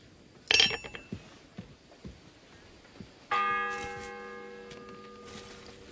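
A bell being forged in Kingdom Come Deliverance 2 gives a sharp metallic strike, some faint clinks, then a second clear strike whose bright ringing tone lingers and slowly fades.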